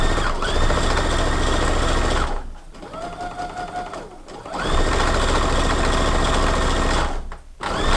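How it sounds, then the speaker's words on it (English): A sewing machine runs in two long bursts with a clunky, steady mechanical drone and a loose bobbin rattling inside, separated by a quieter pause where a faint whine sounds. "Just kind of sounds like the bobbin's a little loose and it just kind of rattles a little bit"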